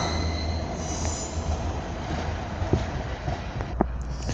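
A train rumbles steadily past nearby at Darlington station, its wheels letting out a high, sustained squeal over the continuous roar, with occasional clanks.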